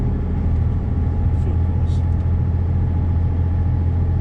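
A truck engine pulling hard at full throttle on an Arctic road near Tromsø, a steady deep droning rumble with strong low harmonics, close and loud inside the cab, with a few faint clicks above it.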